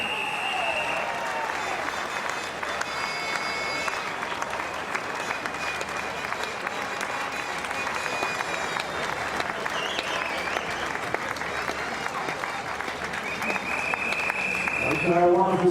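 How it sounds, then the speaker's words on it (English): Sustained crowd applause at a softball playoff between Australia and New Zealand, continuous clapping with voices underneath, swelling slightly louder at the end. "One more round of applause, ladies and gentlemen."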